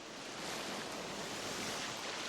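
Antarctic surf rolls onto the shore, heard as a broad, continuous roar of waves with some wind rumble and no voices.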